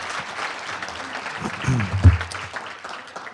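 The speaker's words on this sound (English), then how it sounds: "we'll just give him a hand of applause" A banquet audience at an educator of the year awards event applauds an award recipient, a sustained wash of clapping with a louder swell near the middle and a voice speaking briefly over it.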